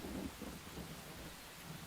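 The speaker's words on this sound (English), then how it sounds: "There is a storm coming." Rain pours steadily in a thunderstorm inside the survival game Enshrouded, a dense hiss with low rumbling thunder underneath, fairly quiet and with no voices.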